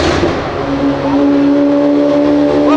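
A widebody Honda Civic Si holds a loud, close, sustained rev with a steady engine drone throughout; distinct exhaust pops are not clearly picked out.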